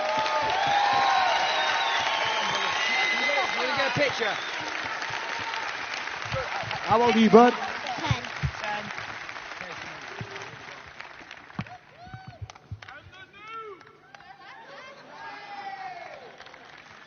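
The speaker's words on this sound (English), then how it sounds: "Round of applause for Marshall." An arena crowd at a UFC Fight Night weigh-in in London applauds and cheers, building to a louder swell midway and then thinning, while people talk nearby, including a man and a young boy.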